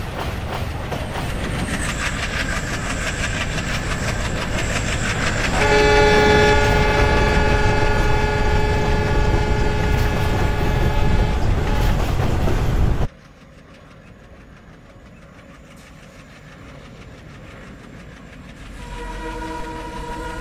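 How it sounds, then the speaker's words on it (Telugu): A locomotive in a Train Simulator game rumbles along an Indian Central Railway route, wheels clattering over the rails, and its horn sounds a long held blast before the rumble cuts to a quieter cab ambience. "ట్రైన్ వస్తుంది భయ్య"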